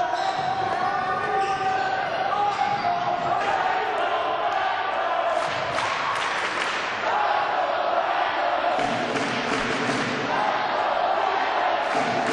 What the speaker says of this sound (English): Boy, this crowd is relentless.